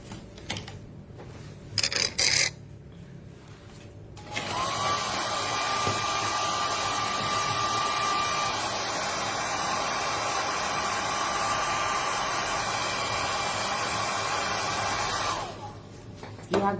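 A hair dryer blasts for about eleven seconds, drying a painted flower. It gives a loud, steady, close-up roar that starts and stops abruptly, with faint handling noises before it.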